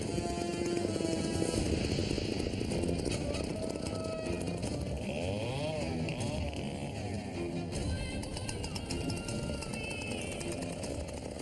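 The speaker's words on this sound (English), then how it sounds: "I'm running the biggest chainsaw I've ever run in my life." Large chainsaw cutting a log while the operator stands in four feet of water, a constant loud buzzing engine whine that holds steady with slight pitch wavers as the blade bites.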